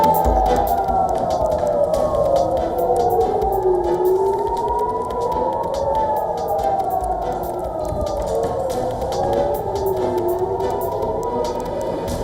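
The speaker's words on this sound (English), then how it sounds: "Air raid sirens sounded in Jerusalem after the Defense Ministry declared a state of emergency." Air raid sirens wail across Jerusalem during a declared state of emergency, their rising and falling tones overlapping continuously with echo from a distance, loud and steady with no voices.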